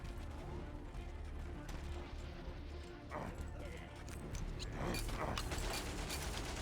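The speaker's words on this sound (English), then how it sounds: "Machine gun. Okay, he's reloading." A machine gun being reloaded in the video game Valiant Hearts, set in the Great War: mechanical ratcheting clicks and metallic clatter amid game background noise, with a voice talking over it.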